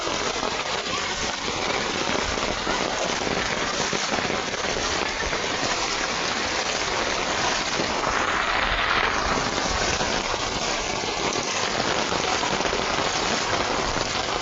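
Steady, heavy rain falls without a break during a flood in Noakhali, Bangladesh, hissing on surfaces close by and drowning out every other sound.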